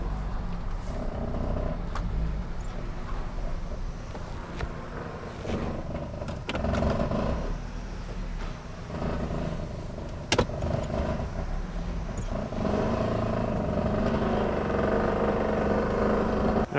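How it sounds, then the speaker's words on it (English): A Nissan Cube with a rattling exhaust, heard from inside as it drives: a steady engine and road drone with faint intermittent metallic rattles and one sharp clack partway through, no talking. "I can hear the exhaust rattling"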